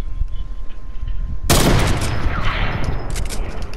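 Video game gunfire erupts suddenly halfway through as a loud, dense burst of continuous shooting with a boomy, crackling wash, following a quieter stretch of background game noise.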